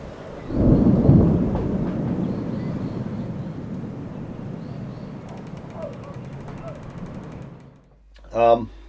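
Thunderstorm at night, a deep rolling rumble of thunder that swells early and slowly fades over several seconds, followed near the end by a brief close handling knock.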